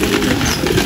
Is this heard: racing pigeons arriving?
yes